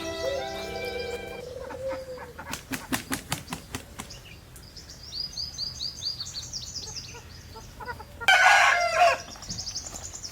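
A rooster crows with a long drawn-out call, then other fowl cluck and chirp nearby, followed by a loud burst of wing flapping and squawking.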